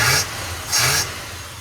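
Chevy big block 454 fitted with an Edelbrock carburetor revving, two quick throttle blips over a steady low idle, close and loud.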